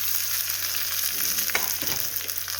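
Curry leaves and green chillies crackle and sizzle in hot tempering oil alongside urad dal and dried red chilli, a steady close frying hiss with a burst of sharper popping midway, no voices.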